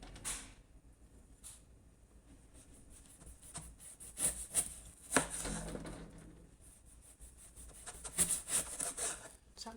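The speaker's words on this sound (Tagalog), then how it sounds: "habang naghihiwa tayo guys, habang naghihiwa" A knife chopping food on a cutting board in a home kitchen, with irregular sharp taps and scraping strokes in scattered bursts, close and fairly quiet.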